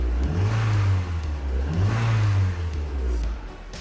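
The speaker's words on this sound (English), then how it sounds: "Engine sounds very good." A Mazda Miata engine, an NA motor swapped into an NB with a rod knock, revs up twice in close succession, rising and falling with a throaty growl, heard up close with no talking.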